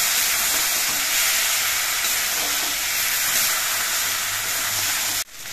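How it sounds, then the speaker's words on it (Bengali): Vegetables hiss and sizzle in a pan just after a little water goes in while cooking a Bengali bhola fish chorchori, a loud, even steamy hiss that runs almost the whole time and cuts off abruptly near the end. "একটুখানি জল দিয়ে দিচ্ছি। এবার নেড়ে চেড়ে সবজির সঙ্গে মিশিয়ে নিতে হবে"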